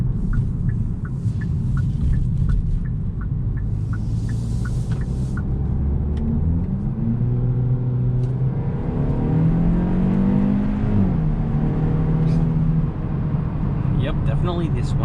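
A 2022 Hyundai Elantra N Line with a 1.6-litre turbocharged four-cylinder drives onto the highway, the engine droning and rising in pitch as it accelerates through gears, with a constant road rumble underneath.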